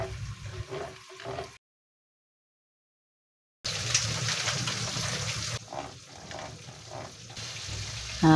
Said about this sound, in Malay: Lepas tu masukkan cili kisar ya. Dimasak hingga pecah minyak.